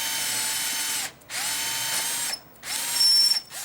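A power drill bores a 9 mm hole into sacrificial timber on a workbench in three short whirring bursts, each spinning up in pitch, with brief pauses between them.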